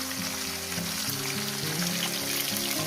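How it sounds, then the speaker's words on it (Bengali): Pieces of shol (snakehead) fish fry in oil with a steady, dense sizzle throughout, while a low tonal hum or faint music runs underneath. "মাছগুলোকে আমি সুন্দর করে লাল লাল করে ভেজে নেব"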